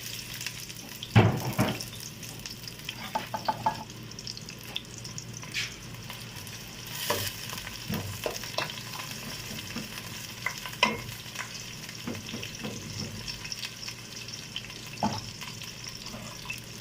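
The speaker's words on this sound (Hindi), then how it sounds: "तेल डाला है और इसमें हम ऐड करेंगे प्याज" Finely chopped onion frying in a cup of oil for Punjabi-style aloo gobi, with a steady sizzle and scattered scraping stirs and clinks throughout.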